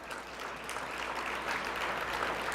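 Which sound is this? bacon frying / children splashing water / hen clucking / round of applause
round of applause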